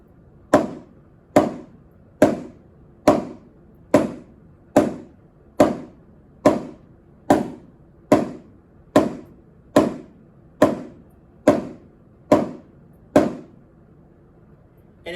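Drum sticks striking in continuous, evenly spaced quarter-note full strokes, about sixteen sharp hits at a steady rhythm, close and clear with no talk.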